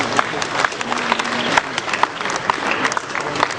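A crowd claps steadily at a 2012 newspaper leadership awards ceremony, a continuous loud wash of applause with sharper individual claps popping out throughout.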